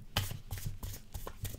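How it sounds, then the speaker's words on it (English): Tarot deck of postcard-like cardstock being shuffled, a quick series of soft riffling flicks and taps, close and fairly quiet. "love the way it shuffles anyway, because it sounds so nice"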